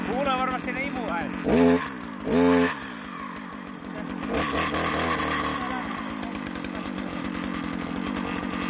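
A small two-stroke brushcutter engine revs up and down in short bursts, its intake sound audible, and then runs steadily, with a voice talking over it.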